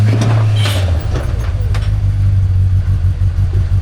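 Car engine running as the vehicle drives around, a loud steady low rumble with a persistent hum, light clatter and a brief rise in revs near the start.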